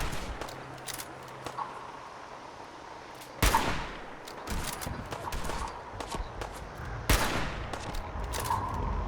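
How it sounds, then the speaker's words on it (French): Gunfire aimed at the player in Fallout 4, with a couple of sharp, loud shot bursts among lighter rapid shots and scattered clatter, game sounds up close. "Qui c'est qui me tire dessus là?"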